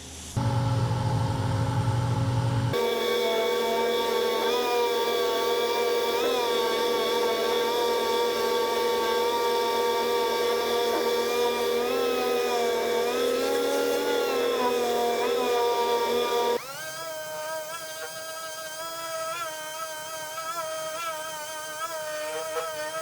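A dual-action sander with 80 grit sandpaper works on a 1970 Chevelle, giving a steady, loud, sustained whir that shifts in pitch partway through and continues somewhat lower.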